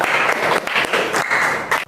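Classroom applause from a group of students, a short burst of brisk, fairly close clapping lasting under two seconds.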